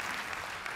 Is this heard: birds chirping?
no